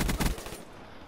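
Galil rifle fire in Black Ops 3: a loud, fast burst of close automatic shots lasting under a second, then a fading tail, with no talking.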